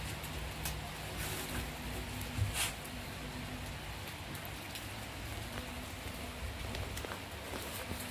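Steady rain falls outdoors during an unboxing of a small vintage onthel jengki bicycle, a soft continuous patter with a few louder drops close by.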